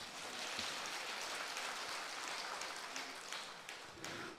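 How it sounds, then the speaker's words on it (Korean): A church congregation applauds in praise during a pastor's sermon, a faint, distant, even crackle of many hands that continues without pause. "하나님께 영광의 박수를 드려요"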